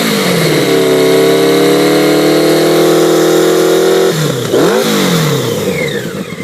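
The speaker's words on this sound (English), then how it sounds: "So the bike runs fantastic." A 1984 Honda Nighthawk 650 motorcycle engine running loud and close, holding a steady revved tone, then dropping sharply before a quick blip of throttle and settling back toward idle.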